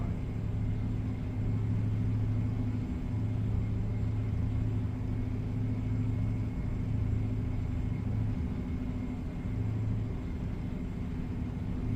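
A heavy truck hauling about 35 tons with a 7-speed gearbox cruises at 1400 rpm in American Truck Simulator: a steady, low engine drone with a constant rumble and humming tones, unbroken and without talk.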